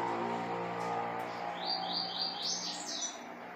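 Female seedeaters, a coleiro and a papa-capim, chirp from inside a cage, giving a run of short, close high tweets over a steady background.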